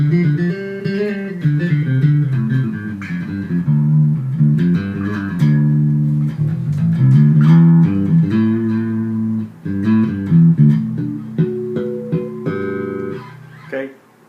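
A six-string bass guitar plays a melodic run of plucked notes, deep and resonant, with occasional higher chords and brief pauses, close and clear.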